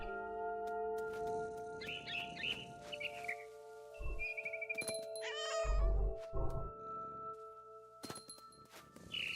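A cat meowing in What Remains of Edith Finch, several drawn-out close meows and caterwauls amid bird chirps, tonal game music and scattered clicks and thumps, with no talking.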